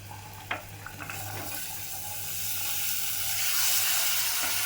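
Vegetables hit hot masala in a pan and sizzle, a loud hiss that swells and stays strong after a few light clinks and knocks at the start, with a low steady hum underneath.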